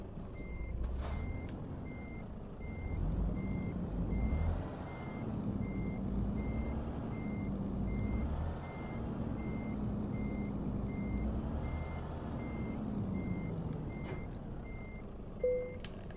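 Truck in Euro Truck Simulator 2 reversing to pick up a trailer: a steady run of evenly spaced reversing beeps over a low engine rumble, with a short hiss near the end.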